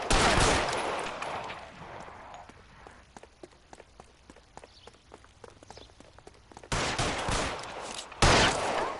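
Gunfire in L.A. Noire: a dense string of sharp shots and rapid bursts, some near and loud, others lighter and scattered, with footsteps mixed in and louder noise surges at the start and end.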